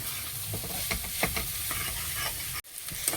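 Pasta being stirred in a frying pan over a steady sizzle, with soft scraping strokes repeating near the microphone before a brief drop-out near the end.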